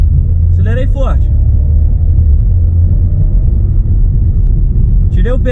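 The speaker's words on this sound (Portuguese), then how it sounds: "Acelerei forte." A car accelerates hard with a deep, loud engine rumble that stays steady and close, framed by short bursts of speech at the start and end.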